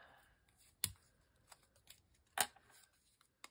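Small fussy-cut scissors trim paper in a quiet room, giving two sharp close snips among a few softer clicks and rustles.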